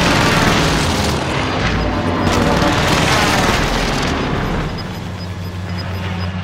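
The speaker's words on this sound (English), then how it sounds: "Designating target for airstrike. This is Phoenix 3. Strike inbound." Airstrike explosions in a Call of Duty multiplayer match, a continuous heavy rumble of booms and gunfire-like crackle, loud and dense, easing slightly near the end while a faint tone beeps.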